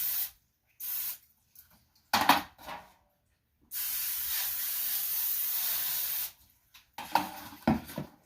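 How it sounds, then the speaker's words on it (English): Cooking spray hisses into two small loaf pans for banana bread, several short close bursts followed by one longer sustained spray of about two and a half seconds, then a few more quick puffs. "So need some cooking spray or butter or whatever you prefer to non-stick."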